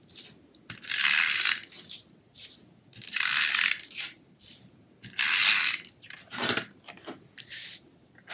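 Stampin' Up Snail adhesive roller run across paper, a series of close, rough rolling and ratcheting bursts, each lasting about a second, with short pauses between them.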